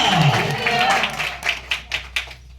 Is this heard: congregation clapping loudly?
yes